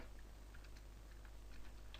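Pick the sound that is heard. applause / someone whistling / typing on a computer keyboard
typing on a computer keyboard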